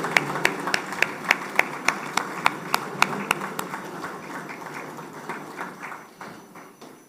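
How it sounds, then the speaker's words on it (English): Seminar audience at an international trade event claps: a few sharp, evenly spaced claps ring out first, then a thinner, scattered patter of applause trails off and fades near the end. "Please, a round of applause for him."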